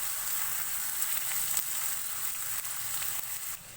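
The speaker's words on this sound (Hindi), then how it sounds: "प्याज को हमें ज़्यादा गोल्डन ब्राउन नहीं करना है, बस इसको सॉफ्ट करना है। सॉफ्ट होने तक इसको पकाएंगे।" Chopped onions sizzle in a pan while cooking for aloo gobi, a steady close crackle of frying with a few faint stirring clicks, no voices.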